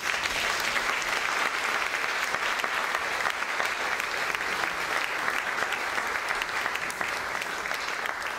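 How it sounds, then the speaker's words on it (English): Steady, dense applause from an audience after a dancer's performance in a class setting, holding at an even, fairly loud level throughout with no pauses. "So now you can applaud for Gretchen Wassel."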